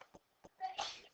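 A single short sneeze comes after a couple of faint clicks, quiet and fairly close, during an algebra lesson.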